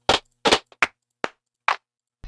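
Sampled claps from a Native Instruments drum sample pack play one at a time, six sharp dry hits of varying tone spaced irregularly with silence between them.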